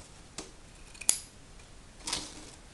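Scissors snip through organza and gauze fabric circles in three quiet, crisp cuts spaced apart, close up with no talking.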